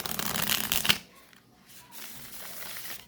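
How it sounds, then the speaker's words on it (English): A tarot card deck riffled in a quick, crisp shuffle up close, followed by softer rustling and handling. "Let's give a little shuffle."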